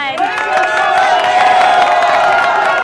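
A West Virginia University home-game sports crowd roaring and whooping in a loud, sustained wall of cheering that holds steady for a few seconds before cutting off abruptly.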